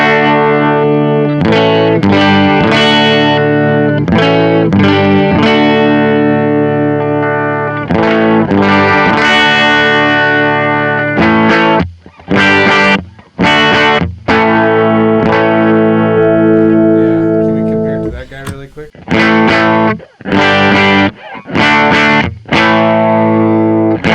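A USA-made Peavey Reactor electric guitar plays strummed chords through heavy distortion and chorus effects, loud and sustained at first, then breaking into choppy, stop-start strums near the end.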